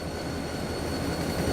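A big PRR SD40 diesel locomotive in a high-speed rail game rumbles past in a steady, loud, dense roar of wheels and engine, with no talk over it.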